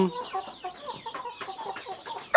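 A hen clucking on a chicken farm, a close run of short repeated clucks and squawks with an uneven rhythm, and a louder burst right at the end.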